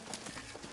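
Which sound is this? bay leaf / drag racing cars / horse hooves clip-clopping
horse hooves clip-clopping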